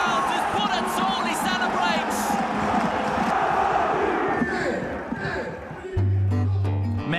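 Roaring stadium crowd cheering and shouting after a Salernitana goal, a dense sustained wall of voices with whoops, under excited commentary.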